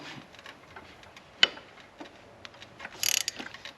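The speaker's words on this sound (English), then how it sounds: "I've got to unbolt the cam phasers from the cams" A wrench working loose the cam phaser bolts on a 2012 Chevy Cruze 1.4L engine during a cylinder head job, giving close, dry metallic clicks and ratcheting ticks with one sharp snap and a quick rattling burst near the end.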